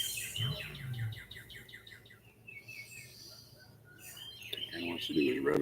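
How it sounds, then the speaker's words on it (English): Outdoor birds keep up rapid, repeated chirping and song phrases, clearest in the first half and returning later, while voices and nearby sounds rise toward the end. "I hear you birds going on about."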